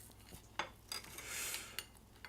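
A knife clinks and scrapes against a plate while chopping through a thick caramel apple, giving several sharp, close taps and one longer grinding scrape.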